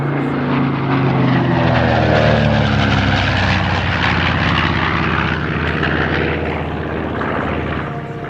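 A World War II B-25 Mitchell bomber roars past at a military air show, its piston engines and propellers loud and close, swelling and then slowly fading as it flies by.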